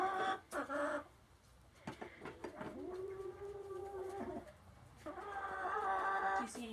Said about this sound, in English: Chickens lay eggs.